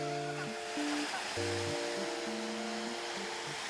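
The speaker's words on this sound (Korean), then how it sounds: "절석이는 파도 소리" Soft night sea waves wash on Haeundae beach in Busan as a faint, steady hiss, with sustained musical tones playing over the top.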